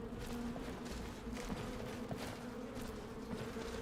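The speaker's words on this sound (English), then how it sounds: "Your bees are so loud." Summoned bees in the Skyrim video game, conjured by a Bee Lady spell, drone steadily and loudly throughout, a continuous buzzing hum with faint footstep-like thuds underneath.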